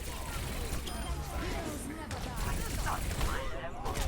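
Rapid gunfire from an Overwatch match on King's Row, aimed at a shield bubble, rattles continuously in dense overlapping bursts with a busy mix of game effects and a voice talking over it.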